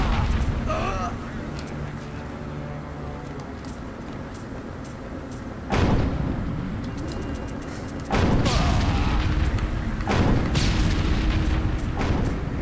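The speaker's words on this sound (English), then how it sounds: "So apparently if a tank shoots you in midair, it hurts." A tank cannon shot striking the player in Destroy All Humans, heard as several heavy booming blasts and rumbling explosions spread across the stretch, under a speaking voice and game sounds.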